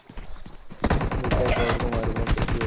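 Rapid automatic gunfire from the PUBG Mobile video game, a dense burst of loud, close shots that starts after a short quiet lead-in, with a faint voice mixed underneath.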